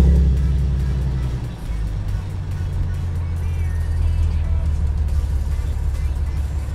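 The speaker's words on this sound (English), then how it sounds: "Now we could turn on the car for the first time" A fifth-generation Chevrolet Camaro starts and settles into a steady low idle hum, close and continuous, after a brief louder crank at the start.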